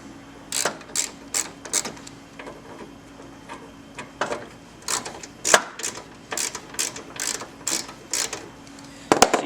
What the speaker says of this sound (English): So you just want to take those bolts out.